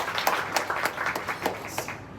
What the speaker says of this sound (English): So I think we can clap again for him.